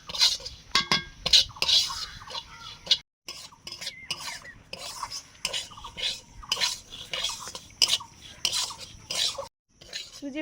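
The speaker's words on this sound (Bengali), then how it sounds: "সুজিটা ভেজে নিচ্ছি" Semolina dry-roasting in a pan while being stirred, with repeated scraping and rasping strokes of a spoon against metal in an irregular rhythm, close by, broken by short pauses.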